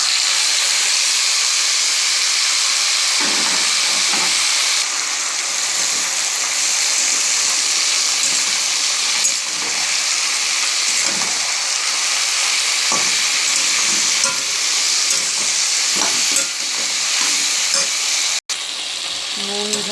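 Taro stolons and shrimp sizzle and fry in a kadai, a steady loud hiss with bursts of crackling and occasional stirring scrapes running throughout.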